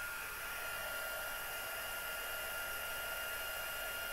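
A heat tool blows hot air over embossing powder on a papercraft project, giving a steady, even whooshing hiss that stays constant throughout, close and alone without talk.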